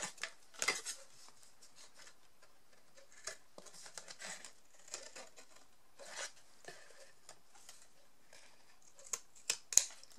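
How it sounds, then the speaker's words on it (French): Scissors snip bevelled corners off paper or card for a decorated scrapbook box, a series of quiet, crisp, irregular cuts close by, separated by pauses and soft handling rustles. "Je vais légèrement couper en coin. Enfin, en biseau, pas en coin, en biseau."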